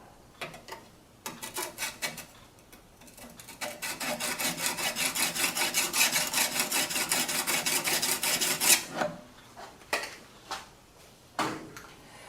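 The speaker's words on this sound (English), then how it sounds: "So that I'm hitting both the back edge and the front edge of that skew with my diamond hone." A skew chisel is stroked back and forth on a diamond hone, giving rasping, scraping strokes in a steady rhythm that swell into a long continuous grind before ending in a few separate rubs.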